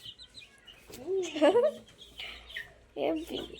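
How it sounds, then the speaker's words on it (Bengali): Chickens roaming a yard give a few short clucks and squawks close by, separated by brief quiet gaps. "দেখুন দেখুন কতগুলো মুরগি। মনের আনন্দে ঘুরে বেড়াক।"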